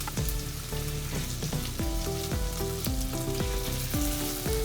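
Salmon fillets frying in a pan with unsalted butter and minced garlic give a steady close sizzle and crackle, with faint background music running underneath and no talking.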